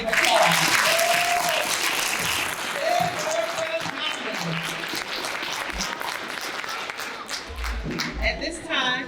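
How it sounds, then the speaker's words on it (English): Audience at an oratorical contest and art competition evening applauding the orators, a full, loud wash of clapping that tapers slightly, with voices and cheers mixed in. "Let's give all of our excellent orators another round of applause"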